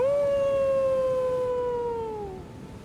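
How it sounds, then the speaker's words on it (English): Blaidd the Half-Wolf howling in the video game Elden Ring, a single long, clear howl holding a steady pitch, then sliding downward and fading out over about two and a half seconds, heard alone. "Once you are in earshot of the howling"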